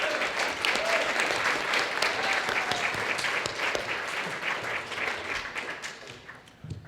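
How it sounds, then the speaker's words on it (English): A convention audience at a fan panel gives a round of applause for radio partners in the crowd, a dense, loud sustained wash of clapping filling a large hall and tapering off near the end. "we can give you a round of applause"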